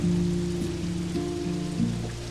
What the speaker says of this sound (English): the clouds came in, and it started to rain